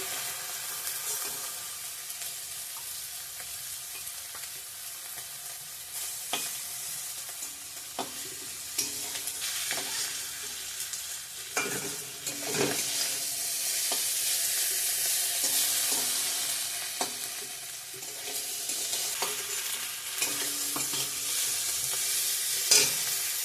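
Spices crackle and sizzle steadily in hot oil as they temper in a pan, with occasional stirring scrapes and clinks over a continuous close frying hiss.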